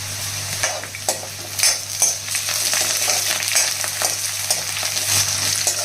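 Curry leaves dropped into hot oil for tomato upma, a loud crackling sizzle with stirring scrapes and spoon taps against the pan throughout.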